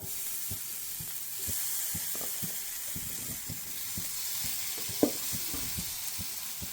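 Brinjal pieces fry in hot oil in a pan, giving a steady close sizzle broken by light clicks of a spatula stirring and one sharper knock, with no voices.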